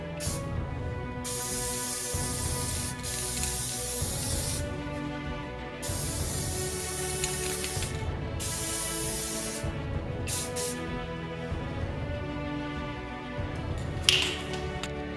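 Aerosol clear coat hisses onto a Daedric axe prop in long bursts, each running a few seconds with short gaps between them, close and fairly loud. A few faint taps and clicks come near the end.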